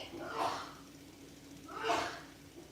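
Two sneezes, each a sharp burst with a quick intake of breath before it, the second louder, about a second and a half apart.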